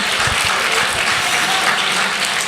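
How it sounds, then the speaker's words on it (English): An audience claps loudly and continuously, a thick, even roar of hands close by that holds steady for the whole stretch. "You guys should clap."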